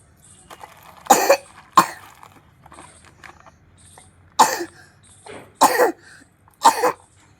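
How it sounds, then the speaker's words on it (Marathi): A person coughs in short bursts, five or six harsh coughs spaced irregularly, close by in a quiet room. "मला पण खोकला यायला लागला"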